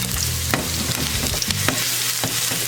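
Sliced garlic sizzles in a big glug of olive oil in a pan, a close, steady fry crackle broken by a few soft clicks of stirring.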